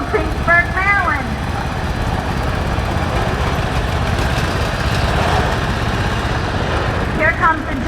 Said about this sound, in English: Here we have a John Deere 216 lawnmower